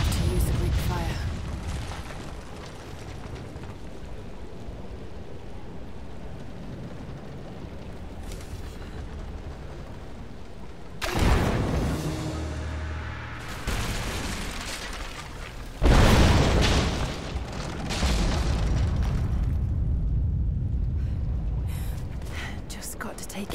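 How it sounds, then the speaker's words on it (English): Loud bursts of Greek fire explode against a statue's supports in Rise of the Tomb Raider, in the flooded archives, two heavy booms with rumbling debris amid steady game ambience and breathy effort sounds. "Looks like I'll have to use the Greek fire."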